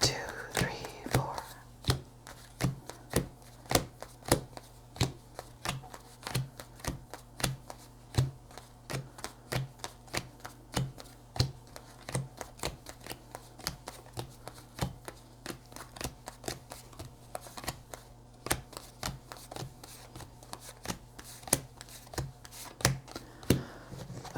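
Lenormand cards are counted and dealt one at a time into piles, each snapping down in a steady quick rhythm of crisp taps that runs throughout, close and fairly soft.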